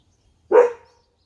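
A dog lets out a single short, loud bark at close range. It stands alone against silence.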